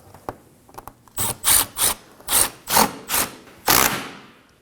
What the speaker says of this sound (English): Now install this 10mm bolt. Once you have it in place, snug it up.